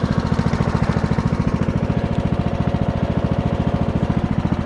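A custom Husqvarna lawn mower engine idles low and close by, a loud, steady, rapid chugging pulse that continues without pause.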